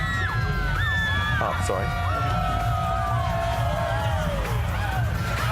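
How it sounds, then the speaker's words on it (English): A night-time crowd at the Sydney Gay and Lesbian Mardi Gras parade in 2009 cheers and whoops continuously, with high shouts and whistles rising over a dense, loud roar, and a voice speaking briefly nearby. "The crowd tonight are absolutely fantastic."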